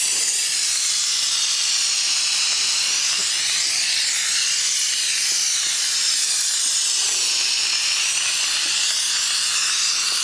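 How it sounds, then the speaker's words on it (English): Tire dressing sprayed from close range onto a Ford F-150 tire, a steady loud hiss of aerosol spray that runs continuously and evenly with no talking. "So let's go ahead and get this sprayed."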